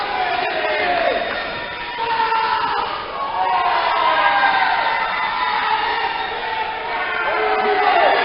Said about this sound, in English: I'm always amazed by the crowd responses we get here at the Dynamic Wrestling Alliance.